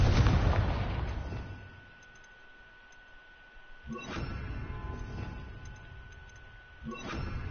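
Confringo blasting spell bursting in Hogwarts Legacy: two sharp explosive blasts spaced a few seconds apart, each with a broad rumbling tail, following a loud opening burst and a quieter stretch.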